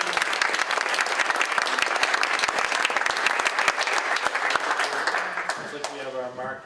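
An audience at a Massachusetts biomanufacturing business event breaks into a big round of applause for a speaker, dense steady clapping that tapers off at the end as a voice begins speaking.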